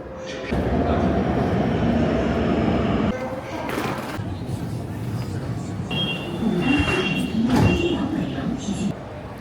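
Luoyang metro train rumbling along with a steady low roar and squealing tones, a door-like shift midway, and a voice faintly in the background.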